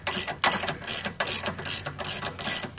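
A hand ratchet tightens the CVT transmission bolts on a 2012 Nissan Altima 2.5L, giving repeated quick clicking strokes about every half second. The clicks are close and clear, with no talking.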